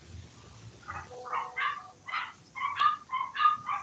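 A small dog barks in a quick series of short, sharp yips and barks, fairly close and moderately loud, with brief pauses between bursts.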